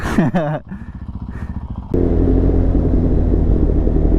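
A motorcycle on a road, a short engine note shifting pitch as it slows, then a loud steady rumble of motor and road noise close by, with no voices.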